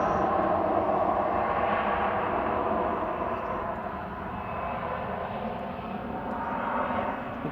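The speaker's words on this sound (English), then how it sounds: "Oh, there's the Aer Lingus in the background." An Aer Lingus airliner passes in the background at Manchester Airport, a steady, moderately loud broadband engine roar that holds for several seconds and eases slightly midway, with no voices.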